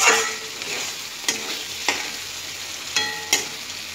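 Potatoes and green peas sautéing in a pan, a soft continuous sizzle broken by a few distinct scraping stirs of a spoon, close and moderately loud.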